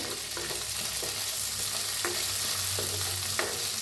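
Cashews and coriander being stirred and roasted in a pan while cooking mattar paneer, with steady close sizzling and a few soft spoon scrapes against the pan, no talking.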